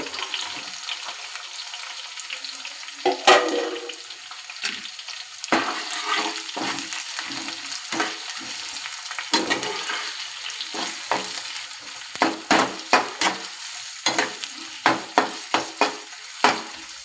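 Three medium onions fry in a pan toward light brown, giving a continuous sizzle with frequent stirring scrapes and taps. The taps grow sharper and more rhythmic near the end.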